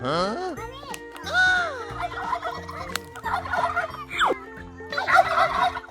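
A turkey gobbles repeatedly at close range in several loud bursts, with a voice heard between them.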